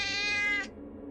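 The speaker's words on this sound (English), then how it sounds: "it was only a cat" A cat gives a single drawn-out meow, clear and fairly close, that cuts off abruptly, leaving a faint low background.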